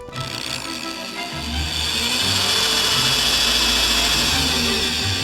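A power drill bores into metal at low speed, its steady motor whine starting abruptly and holding with a grinding edge that grows slightly stronger over a few seconds, with no voices.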